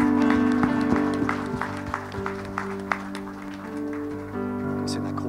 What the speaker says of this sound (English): Let's give the Lord a clap offering.